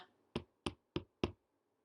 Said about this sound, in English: the big bad wolf knocked at the door